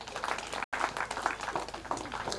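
A crowd applauding at a church gathering, dense steady clapping that carries through the whole short stretch without pause.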